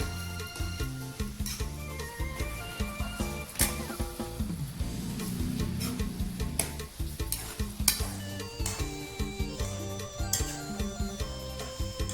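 Minced pork with holy basil leaves is stir-fried in a pan, with a steady sizzle and the repeated scrape and clatter of a spatula stirring close up, no talking.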